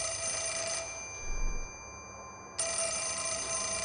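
A telephone rings inside the Fatal Frame: Mask of the Lunar Eclipse video game, a steady electronic ring that stops briefly midway and then resumes, loud and close with no talk over it.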